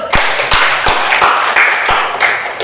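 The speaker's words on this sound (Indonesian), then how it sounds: "untuk kelompok 4 dan yang berkomentar kita kasih aplaus" Rhythmic clapping in a classroom for group 4, a crisp, steady beat of hand claps close by, roughly two or three per second, with a light murmur under it.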